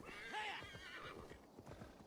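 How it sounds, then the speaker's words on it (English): A horse called in Assassin's Creed Valhalla comes in with a sharp whinny followed by quick clip-clop hoofbeats, close and clear, all within about two seconds. "I'm just gonna call my horse"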